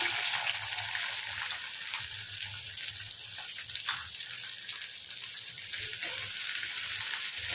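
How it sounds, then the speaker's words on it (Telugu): Chopped onion and two green chillies frying in hot oil with cumin for a village-style boti curry, a steady close hiss and sizzle with faint stirring scrapes running throughout. "ఉల్లిపాయలు అయితే వేగుతున్నాయి కదా"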